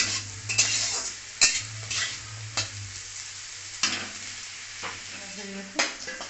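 Red chillies and garlic frying in a pan until reddish, stirred with a utensil: a continuous close sizzle broken by irregular scraping strokes and metallic knocks against the pan, roughly every second.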